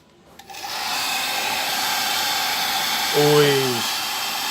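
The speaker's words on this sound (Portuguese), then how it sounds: "Deixa eu pegar aqui o secador de cabelo." Hair dryer blowing steadily on a freshly painted miniature battle vehicle, a constant loud whooshing hiss close up, with a brief higher whine toward the end.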